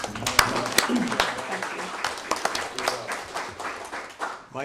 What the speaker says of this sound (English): I think we owe her a round of applause.